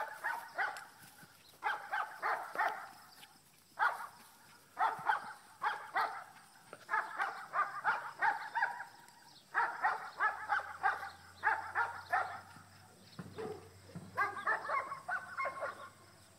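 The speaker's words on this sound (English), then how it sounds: "Those dogs are annoying as hell." Dogs bark repeatedly in bursts of rapid, moderately distant barks with short pauses, continuing throughout with a low engine-like hum appearing near the end.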